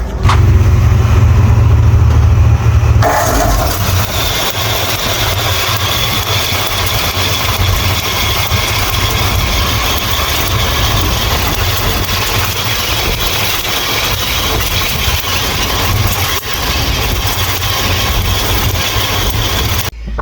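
A stranded old car named Edna, freshly repaired for spark, bursts into life with a loud start, then settles into a steady, rough idle that runs close by for about seventeen seconds with no talking.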